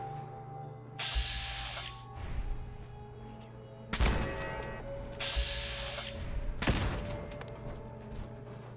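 Automated turrets in Fallout 4 fire in repeated rapid bursts with sharp cracks, each burst lasting about a second, close and fairly loud over a steady hum.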